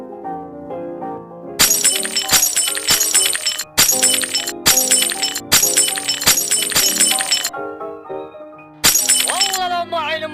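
Dishes and glassware breaking in a comedic cartoon, a rapid series of sharp crashes and shatters repeating loudly over about six seconds, then one more burst with a ringing tail, over a music-like background.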